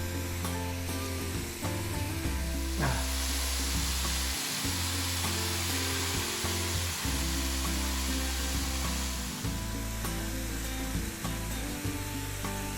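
Pork sizzles and fries steadily in a saucepan, a loud, dense hiss that runs unbroken throughout with no voices.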